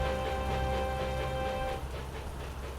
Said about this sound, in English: the rain made the road so wet and slippery, which meant Bertie had to go even slower.